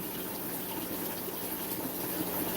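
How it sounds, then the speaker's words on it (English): Water draining through a siphon during an aquarium water change in a fish room, a steady, even rushing flow that continues alone without a break. "You can hear the water draining."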